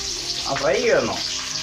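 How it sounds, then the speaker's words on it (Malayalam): Raw mango pieces drop into hot oil and fry with an even, close hiss and sizzle, while a voice briefly sounds over it. "കുറേശ്ശെ കുറേശ്ശെ ഇട്ട് കൊടുത്ത് വറുത്തെടുക്കാം"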